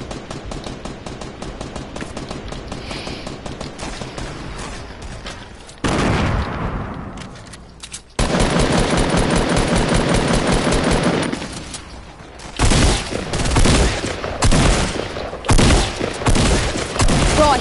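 Rapid bursts of gunfire from a shooter video game, loud and dense, with sustained automatic fire broken by short pauses and sharper single shots near the end.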